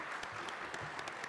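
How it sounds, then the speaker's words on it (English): Applause from a conference audience at an international forum, a soft, even patter of clapping heard at a distance for a short moment. "Once again, a big round of applause to our wonderful panelists."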